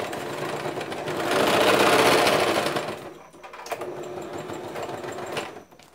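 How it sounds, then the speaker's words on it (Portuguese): A sewing machine runs in a loud, steady burst while stitching a pocket onto a wire-framed bag, then slows and drops to quieter intermittent whirring and a few clicks near the end. "Agora a gente só passa só uma costurinha só para firmar ele"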